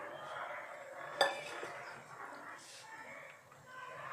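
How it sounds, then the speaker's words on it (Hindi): Carrot kadhi, a yogurt curry, being stirred in a pot: a spoon scrapes and clinks against the metal in an uneven rhythm, close and fairly soft, with one sharp clank early on and a faint voice in the background. "अभी हम इसको चला रहे हैं और ये खोलने दे रहे हैं।"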